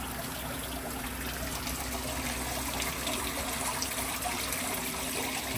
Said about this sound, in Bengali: এই যে দেখেন কিভাবে পানি পড়তেছে